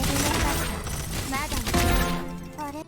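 Rapid SMG gunfire from Yvette in the Strinova video game, quick bursts of close-range shots mixed with game effects, heard under someone talking.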